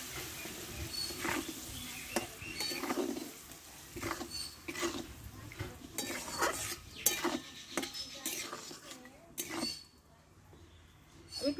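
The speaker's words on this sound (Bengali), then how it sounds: "এবার আমি দইটা এতে দিয়ে দেবো খুব হালকা আছে একটু নাড়াচাড়া করতে হবে" Yogurt being stirred into pointed gourd curry in a pan: soft, irregular scraping and clinks of a spoon against the pan over a faint simmer, quiet and close.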